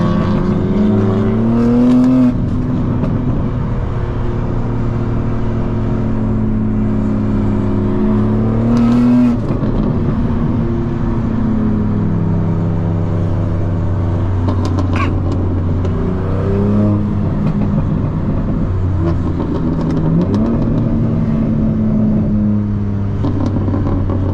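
BMW G80 with a catless downpipe exhaust revving hard: loud, raspy engine swelling and falling through several rev climbs, close and continuous for over twenty seconds with no talk.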